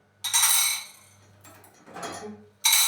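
Several clattering bursts of dishes, glasses and spoons being unloaded from a dishwasher onto a table close by, with short pauses between the clinks and knocks.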